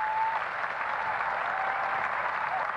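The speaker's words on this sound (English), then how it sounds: "Tremendous applause for a terrific player, Pete Sampras." Tennis exhibition crowd applauding Pete Sampras at Ede in 1991, a continuous even roar of clapping from a large audience.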